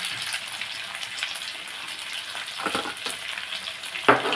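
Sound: stirring spices into frying chicken

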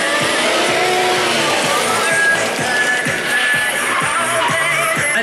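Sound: stunt car skidding during stunt show

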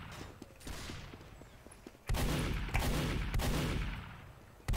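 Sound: gunshots in the video game Team Fortress 2

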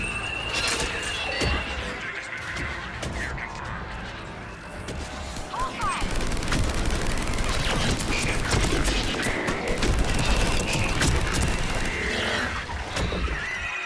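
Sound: rocket fire and explosions in video game Mass Effect 3

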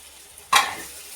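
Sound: green chillies and tomatoes frying in pan for biryani

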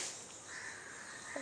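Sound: crow cawing while waiting for food

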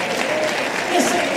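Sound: audience applause in church

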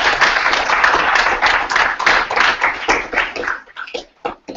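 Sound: students clapping in a video meeting

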